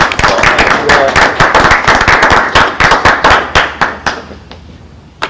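Meeting attendees give a golf clap at a college board of trustees meeting, a loud burst of many hands clapping in quick rhythm that thins into scattered, fading claps.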